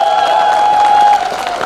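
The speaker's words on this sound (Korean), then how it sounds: "여러분 박수 주세요." A crowd at a Korean election campaign rally applauds loudly and steadily, a dense wash of clapping mixed with a sustained tone from the public address system.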